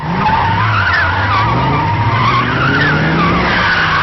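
Car tires skidding in a film chase scene, with loud, sustained tire squeals whose pitch wavers up and down over a revving engine, running the whole time without pause.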